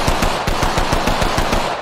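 Rapid P2020 pistol fire in the Apex Legends video game, roughly a dozen sharp, evenly spaced shots in quick succession, loud and close with no talking.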